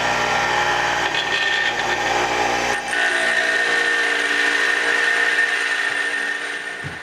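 A cutter head trims the corner of a workpiece, giving a steady high whine and roar that changes tone partway through, then gradually fades toward the end, with no voices.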